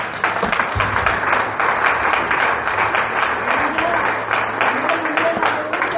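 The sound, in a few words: congregation applause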